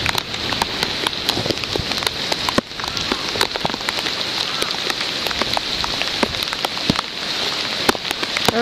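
Steady rain patters on tents at a flooded camp, a dense hiss with scattered sharper drops striking nearby fabric, close and continuous, with no talk.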